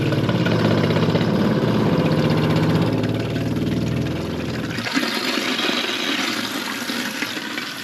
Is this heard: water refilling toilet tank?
yes